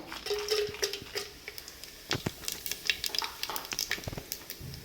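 Biryani masala sizzles in hot oil in a pan for chicken pushka, with a continuous frying hiss and scattered metallic clinks and scrapes of stirring.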